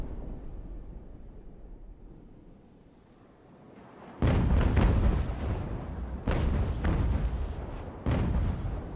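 Broadside cannons from sailing warships in the naval battle game Ultimate Admiral: Age of Sail roar in three heavy, booming volleys after a quieter stretch of ambient wind and sea, each blast loud and rumbling.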